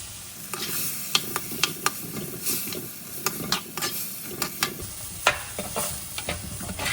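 Ingredients being sautéed in a pan for Coimbatore rice and lentil dish, a low steady sizzle punctuated by frequent sharp spatula scrapes and taps against the pan, close and uneven in rhythm, no voices.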